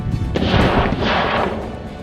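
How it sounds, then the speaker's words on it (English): A rifle shot fired at a wild boar in a farm field booms out, one loud blast whose echo rolls on across open ground for a couple of seconds. "The crack of the gunshot echoed across the field"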